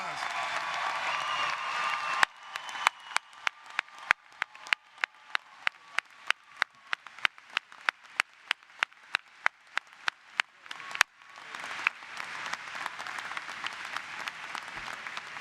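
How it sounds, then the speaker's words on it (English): Law school graduates at a May 2024 commencement applaud their families and friends. A crowd's clapping and murmur opens and closes the moment, with a long middle stretch of loud, rhythmic claps from one nearby clapper. "I want you to stand up and give your family and your friends a great round of applause"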